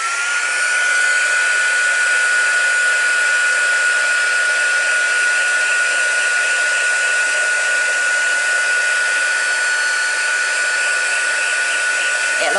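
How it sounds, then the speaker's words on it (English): A craft heat tool blows hot air to dry ink-covered paper for a faux leather card, a loud, steady whirring whine with a constant high tone that runs unbroken for the whole stretch, close to the listener and with no talking. "the heat tool will dry it just as quick, if not a hell of a lot quicker"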